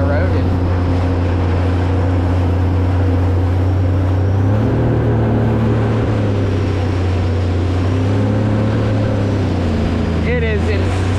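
A supercharged Sea-Doo personal watercraft engine drones loudly up close, its pitch stepping higher partway through as the throttle opens, with wind and water rushing around it.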